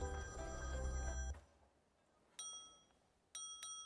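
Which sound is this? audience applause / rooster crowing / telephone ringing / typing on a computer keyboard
telephone ringing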